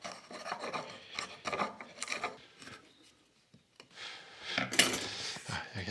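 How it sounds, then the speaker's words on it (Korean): Hand chisel paring and trimming a double mortise-and-tenon joint on a wooden window lattice: close, scraping rasps in short bursts, then a quiet pause and a louder, brighter run of paring strokes. "애끌로 다듬어 주는 거죠."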